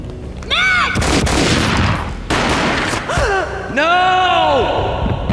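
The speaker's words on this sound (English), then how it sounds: "A gunshot boomed and she fell down in slow motion." Gunfire in the Max Payne video game comes as a heavy boom in a burst of loud, dense noise. Dramatic game audio and vocal gasps surround it in a tense, continuous mix.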